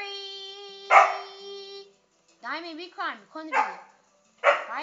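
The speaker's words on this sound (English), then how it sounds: "That's my dog in background." A dog in the background gives a few barks and yips between stretches of talk, moderately loud and spaced out across the moment.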